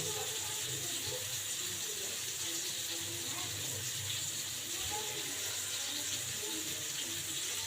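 Hands are washed under a running kitchen tap, a steady, even rush of water splashing into the sink close by without a break.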